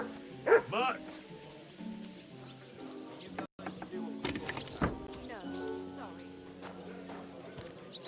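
A dog barks a couple of times amid a busy soundscape in Kingdom Come: Deliverance II, with music and voices talking over it.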